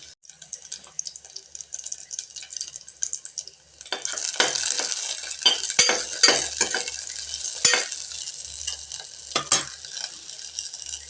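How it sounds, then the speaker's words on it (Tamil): Onions and green chilies sauté in a pan. A soft sizzle runs throughout, then grows louder after a few seconds as a utensil scrapes and stirs with sharp, irregular clicks. No one speaks. "இப்போ இது கொஞ்சம் நல்லா வதங்கட்டுங்க."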